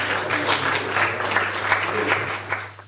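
Audience applause after a live song at a café concert at TU Berlin, steady broadband clapping of a small crowd throughout, fairly close, with a low steady hum underneath and a few brief voices.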